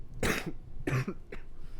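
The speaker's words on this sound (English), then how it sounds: "I got this 8-week cough" Three harsh coughs in quick succession, close and fairly loud, the last one shorter and fainter, with no talking around them.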